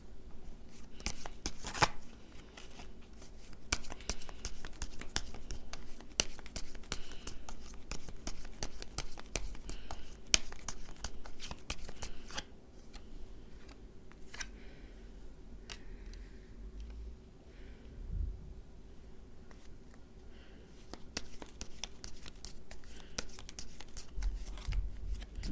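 Tarot cards are shuffled by hand for a long stretch, a busy run of soft riffling and slapping clicks close by, easing into quieter handling partway through, with no talking.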